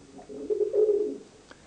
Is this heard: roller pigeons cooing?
yes